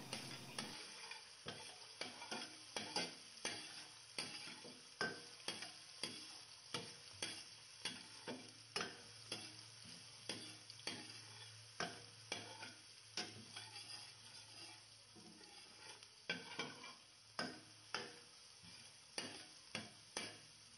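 Sliced garlic frying in a pan for pork steak, a steady soft sizzle broken by regular scraping clicks of a utensil stirring, close and fairly quiet with no voices.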